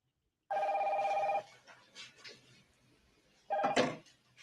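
Telephone ringing indoors: two separate electronic rings, the first about a second long and the second shorter, with quiet room noise and faint clatter in the gap between them.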